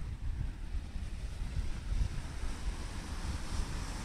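Wind blowing at an outdoor recording spot that is partly sheltered, a steady low rumble and buffeting with soft broadband hiss, continuous throughout and with no voices.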